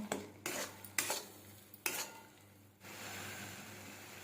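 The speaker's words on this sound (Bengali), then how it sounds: "সব কিছু ভালোভাবে কষিয়ে নেব" Ground coriander, Kashmiri chilli powder and salt sizzle in a pan for stuffed potatoes, stirred in several scraping strokes over a steady hiss that settles into a continuous fry.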